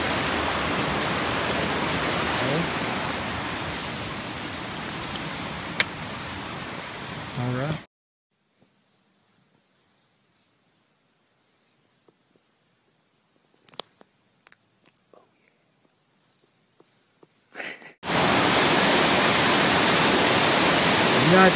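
A river on the Appalachian Trail rushes loudly in a steady roar, then cuts to near silence with a few faint clicks before the water's roar returns at full strength.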